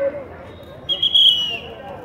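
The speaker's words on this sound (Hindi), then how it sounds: "और ये अभी इसे खाली कर रहे हैं गार्ड, सीटी बजा बजा के" Security guards at the Qutub Minar monument in Delhi blow a shrill whistle to clear visitors from the site, one sustained piercing blast over a murmur of crowd voices.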